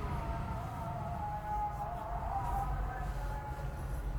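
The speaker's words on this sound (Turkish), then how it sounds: "Cam açalım da ezan dinleyelim." Islamic call to prayer drifts in from outside a Toyota Corolla in morning traffic, a faint, sustained melodic voice over the low rumble of the car and road noise.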